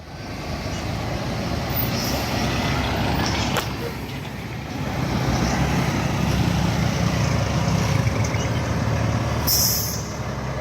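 A tourist bus drives along a busy Pattaya street with a loud, close engine rumble that stays steady throughout, mixed with traffic noise and a short high hiss near the end.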